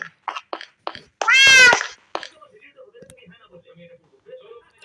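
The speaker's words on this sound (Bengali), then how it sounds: "এখানে আমার বিড়াল, এতগুলো বিড়াল দিয়ে কি করবো? খালি ম্যাও ম্যাও করে।" A loud, drawn-out cat meow stands out among short chirpy calls and soft background sounds, close by.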